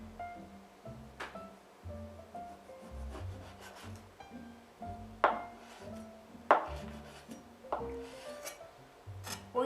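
Knife chopping 15 grams of ginger on a board, a handful of sharp, separate cuts spaced a second or so apart over soft rubbing and scraping, close and moderately quiet.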